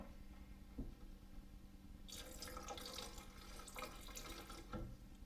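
Gulp bait scent liquid is poured into a container, a steady splashing trickle with a few sharp knocks, close and moderately loud, with no talking.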